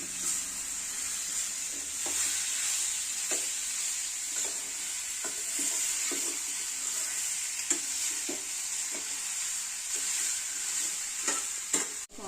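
Potatoes sautéing with masala in a pan: a continuous hissing sizzle with regular scraping strokes of a spatula stirring the mixture.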